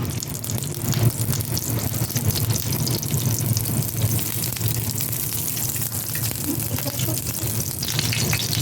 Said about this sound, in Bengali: এখন এটার মধ্যে আলু ভেজে নিব।